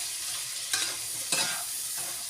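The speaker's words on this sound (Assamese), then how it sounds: "এতিয়া মই খুব ভালদৰে লৰাই ল'ম" Mixed vegetables sizzle in a frying pan as a spoon stirs them after salt is added. A continuous bright hiss is broken by two distinct scraping stir strokes, close and fairly loud, with no voices.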